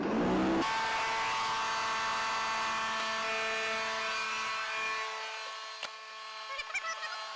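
A 220-volt plasma cutter powers up with a loud buzzing hum that drones steadily as it airs up, then its rumble drops away, leaving a fading whine and a few faint clicks.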